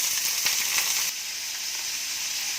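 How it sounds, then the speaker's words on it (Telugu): Carrot and bean pieces sizzle in a hot pan with green chilies for a Telugu carrot-beans palyamu, a steady bright frying hiss that drops slightly softer partway through, close and without voices. "క్యారెట్ ముక్కలు, బీన్స్ ముక్కలు అన్నీ వేసి ఒకసారి కలిపి"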